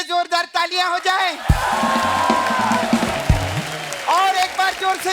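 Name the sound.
studio audience applause and cheering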